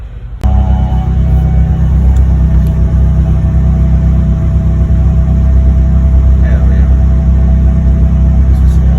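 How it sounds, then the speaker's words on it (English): A Mitsubishi Eclipse with a 420A engine, which had been stalling, starts up right after a Walbro 255 fuel pump install: a sudden crank-and-catch, then a steady, loud, close idle rumble that holds to the end. "start the car"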